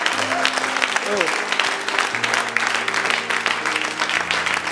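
A church congregation claps and cheers steadily throughout, a dense wash of applause with voices calling out over it and sustained music underneath.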